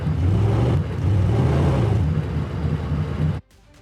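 Synthesized car engine revving from a granular RPM engine designer, a loud continuous rising and falling drone that cuts off abruptly near the end.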